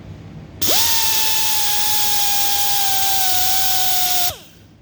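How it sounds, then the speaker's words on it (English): Drill-driven brush run through the bolt holes of a rebuilt 350 small-block Chevy connecting rod: a steady, close, high whine that spins up sharply, holds for nearly four seconds, then cuts off. "We'll run a brush through the holes."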